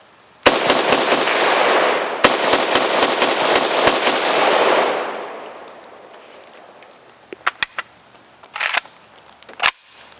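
AK-74 rifle bump fired outdoors, two rapid bursts of loud close shots with ringing echo trailing off, followed by a few faint scattered clicks and knocks.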